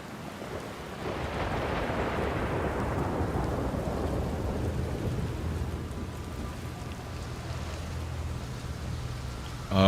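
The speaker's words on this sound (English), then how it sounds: "It is raining." Rain and rumbling thunder in the space exploration video game Outer Wilds, with a steady downpour hiss and a broad thunder roll that swells and fades, with no talking.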